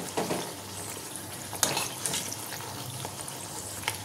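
Carrot kochuri deep-frying in hot oil, a quiet, steady sizzle with crackling pops and brief splashes close by, without speech.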